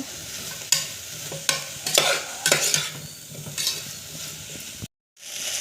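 Vegetables for vegetable rice sauté in a pan, sizzling steadily while a spoon scrapes and stirs in several bursts, close by, before a brief moment of silence and the sizzle resumes.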